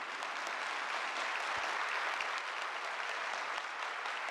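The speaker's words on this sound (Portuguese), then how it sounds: "eu quero pedir a que todos nós possamos aplaudir os servidores do INSS" Steady, dense applause from an audience honoring INSS public servants at a Brazilian government event launching income and opportunity measures. It fills the whole stretch at an even, sustained level with no talk over it.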